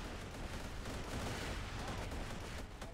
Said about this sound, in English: Just explosions, explosions everywhere.